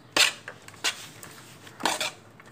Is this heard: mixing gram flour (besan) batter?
yes